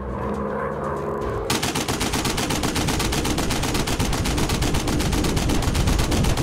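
Rapid machine gun fire from a WW1 fighter plane in a VR flight combat game, a dense continuous rattle that starts abruptly and stays loud and steady for several seconds, with no talk.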